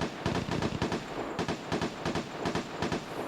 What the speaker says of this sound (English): Those are gunshots of desperation.